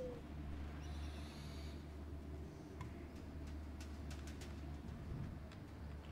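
Owl attack in the video game Far Cry Primal: a faint cry fades in the first second over a steady low game hum, followed by scattered soft clicks and thuds.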